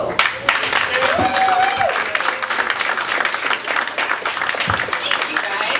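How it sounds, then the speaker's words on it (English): A cafe audience at a comedy show applauds and cheers for comedian Sam Desolo, dense continuous clapping with a few whoops, while a voice talks over it. "give a big round of applause for Sam Desolo."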